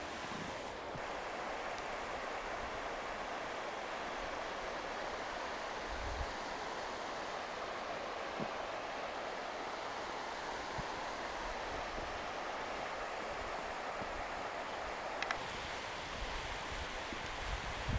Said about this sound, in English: As you can see, the river is behind me.